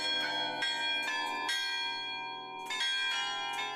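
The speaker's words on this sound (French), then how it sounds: "j'ai découvert ce carillon" A carillon of 31 bells in Cambrai plays a slow melody, several bright, ringing strikes overlapping as each note decays, clear and moderately distant with no talking.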